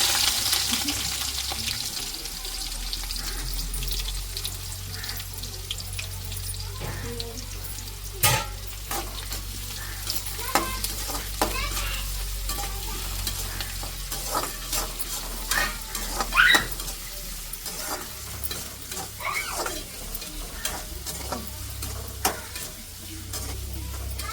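Onions sizzle steadily in hot ghee with mustard seeds for a fish curry, with a continuous close frying hiss broken by repeated sharp clinks and scrapes of a stirring utensil against the pan.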